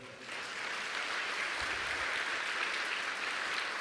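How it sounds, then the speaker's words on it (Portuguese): A church congregation breaks into continuous applause, many hands clapping in a thick, even roar that holds at a strong level from start to finish. "Você pode aplaudir o Senhor?"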